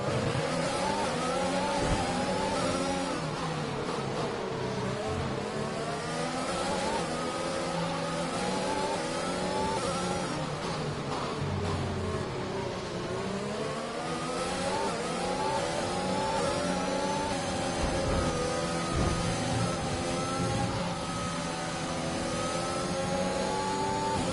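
Race car engines roar continuously in the F1 2021 video game, with overlapping revving pitches rising and falling as cars overtake one another, loud and steady throughout.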